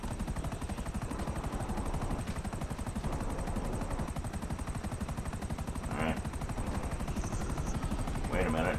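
A helicopter's rotor in GTA 5 chops steadily throughout, with scattered bursts of gunfire over it.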